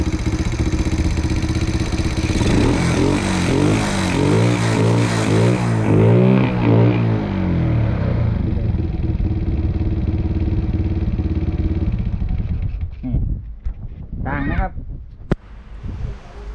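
A Honda Wave motorcycle engine with its original cylinder head runs steadily and loudly up close, with a pulsing, revving mid-range drone that then drops away, leaving a few faint knocks and handling noises.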